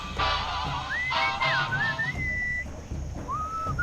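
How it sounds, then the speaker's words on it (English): Melodic whistling in the video game Sam & Max Beyond Time and Space rises and glides through a few short phrases over a dense background of game music and low rumble. "What is that enchanting whistling sound?"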